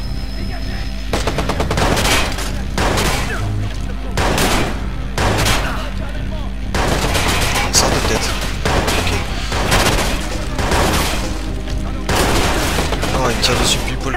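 Repeated bursts of automatic gunfire from the video game Watch Dogs, loud and close, coming in clustered volleys with short gaps, under a steady low hum and occasional talking.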